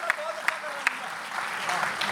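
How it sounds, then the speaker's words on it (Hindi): Applause from the audience at a Hindi hasya kavi comedy show. The clapping is fairly soft and steady, a few sharp claps stand out near the start, and the crowd murmurs underneath. "एक बार तालियां बजा दीजिए।"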